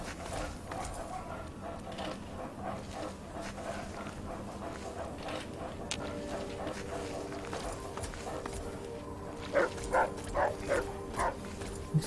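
A dog barking in the video game Fallout 3, a few sharp barks rising near the end over a busy game soundscape with faint footsteps and background noise.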